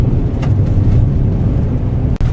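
A 2016 Chevrolet Silverado 1500 Z71 LTZ crew cab 4WD pickup drives off pavement on dirt, giving a steady, loud low rumble of engine and road noise that is broken by a brief dropout near the end.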